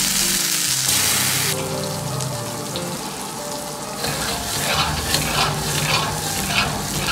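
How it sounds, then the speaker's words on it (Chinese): Tofu fries over medium heat in a wok of hot oil, producing a loud, close sizzle with stirring and scraping. The sound swells after a brief quieter start and holds steadily, with no talking. "油温烧至五成热，保持中火，下入豆腐。"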